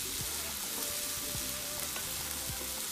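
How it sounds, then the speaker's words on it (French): Mbonzo caterpillars frying with parsley in a pan are being stirred, giving a steady close sizzle broken by soft scraping strokes. No one speaks. "On remue le tout."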